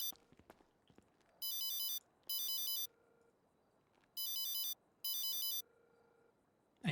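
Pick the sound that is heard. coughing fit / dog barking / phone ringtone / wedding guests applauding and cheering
phone ringtone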